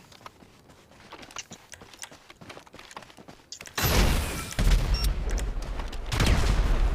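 Rapid video game gunfire bursts out loud and dense after a few seconds of quiet clicking, pounding on with a short dip before another heavy volley.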